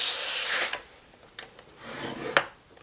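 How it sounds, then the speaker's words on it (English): Scoring tool drawn across paper booklets to crease them in half, giving soft, close scraping rubs with a few small clicks and taps. "line up our booklets, both the same as each other, 8 inches along the top, and simply score right in half at the 4"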